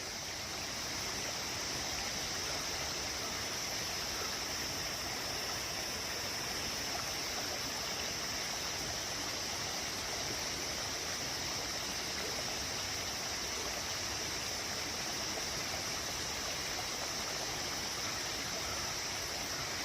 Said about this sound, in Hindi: इसकी आवाज़ भी सुनाई दे रही है, कलकल कलकल, झिंगुरों की गूंज और इस पानी की कलकल कलकल